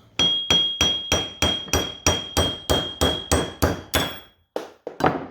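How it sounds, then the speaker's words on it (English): About a dozen sharp hammer blows ring out on a metal car part of a Nissan 240SX in a steady, even rhythm, followed by a pause and a few more scattered strikes. "So just basically take a hammer."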